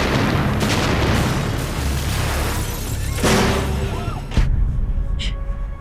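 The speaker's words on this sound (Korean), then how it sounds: "도저히 믿을 수 없는 폭발." A sudden, violent explosion erupts amid a burning scene in a Korean drama, a loud broadband blast with rumbling aftermath and a second sharp burst near the end, over continuous roaring noise.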